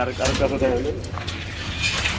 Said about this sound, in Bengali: দেখতে পাচ্ছেন রেসার কবুতর হোয়াইট কালারের মধ্যে